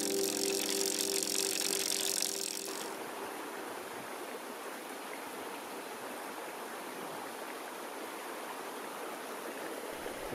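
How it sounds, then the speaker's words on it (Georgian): A mountain river flowing through the Dzama gorge gives a steady, rushing wash of water heard alone. A louder, brighter noise covers the first few seconds before the flow settles to an even level. "ეს არის ვანანა, ეს მდინარე."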